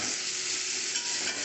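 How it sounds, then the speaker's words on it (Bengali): Taro and potato pieces fry with turmeric and salt in hot oil, a dense, even hiss of sizzling oil held close and steady throughout, with no speech. "কচু আলুটাকে লাল করে ভেজে নিয়েছি"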